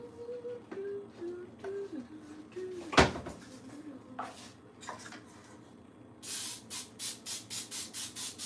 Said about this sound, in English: But maybe I will spray under the liner.